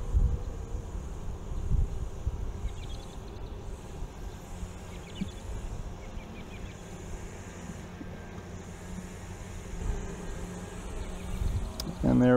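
Honey bees hum steadily inside an open Langstroth or Layens hive, a dense continuous low drone close to the listener, with a faint buzz that rises and falls slightly throughout.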